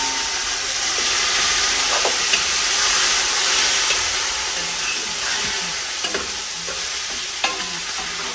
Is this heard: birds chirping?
no